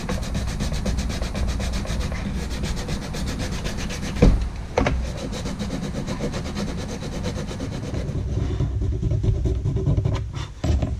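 A burr is scraped off a PVC pipe flute, making a steady, close rubbing and rasping sound with a couple of sharp knocks near the middle and end.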